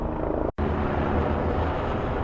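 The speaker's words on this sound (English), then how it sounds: "I have no idea whose helicopter that is, but I hear it flying by my place pretty often." A helicopter passes over a residential area of Kyiv, Ukraine, as a steady broadband rotor and engine roar that stays fairly loud throughout, broken only by a brief dropout early on.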